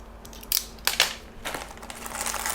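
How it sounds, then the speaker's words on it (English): Wires snipped with a nipper while preparing a JST-XH connector for a mini motor and ESC; a few sharp, close clicks and snaps stand out against a quiet background. "Take a nipper, cut the wires."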